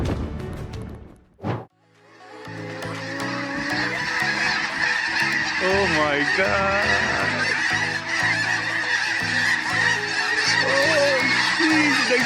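A large flock of geese honking loudly and continuously after a short thud, a dense overlapping chorus of calls close by, with no talking.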